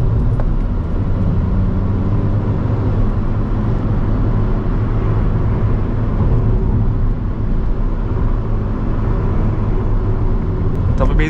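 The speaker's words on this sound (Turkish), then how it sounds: "Şöyle biraz yokuş aşağı gaza bakalım." A Fiat Fiorino 1.4 Fire Premio van with a petrol engine accelerates downhill, its engine drone and road rumble holding steady and loud throughout, with a brief sharp sound near the end.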